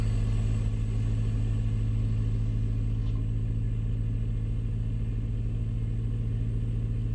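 A semi truck hauling a trailer loaded with diesel exhaust fluid drones steadily with a deep, even engine rumble heard from inside the cab, with no clear break for a gear change.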